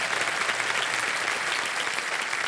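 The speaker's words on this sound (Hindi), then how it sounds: "जोरदार तालियां बज जाए इनके लिए।" Loud, continuous applause from a game-show studio audience welcoming the contestants, thick and even from start to finish.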